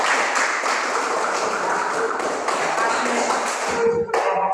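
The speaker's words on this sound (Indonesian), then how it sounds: "Saya beri tepuk tangan." A classroom of students claps hands together after group presentations, a dense, steady patter of many overlapping claps that holds evenly for several seconds, then thins out and stops near the end.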